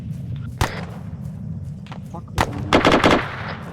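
Suppressing gunfire in the video game Arma 3 during infantry platoon training, with sharp loud shots cracking out singly and then in a rapid burst, over a low rumbling background with radio chatter.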